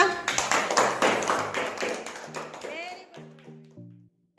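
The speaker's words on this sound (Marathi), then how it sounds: "लवकर सगळ्यांनी त्याच्यासाठी टाळ्या वाजवा" Children clapping together in a classroom after a word-building exercise, a quick burst of fairly loud, slightly uneven claps that fades out toward the end with a little voice in the background.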